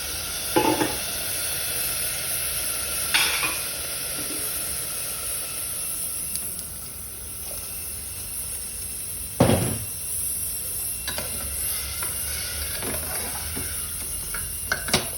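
Soya bean rice and water are stirred in a pot, a soft bubbling sizzle with a few sharp scrapes and clinks of the spoon against the pot, no talking.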